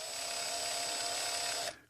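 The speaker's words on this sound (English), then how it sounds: "I'm going to actually run the bit backwards in a second here" A rotary tool bit spins in reverse against a hard-boiled egg's shell, giving a steady high whine for nearly two seconds before cutting off abruptly.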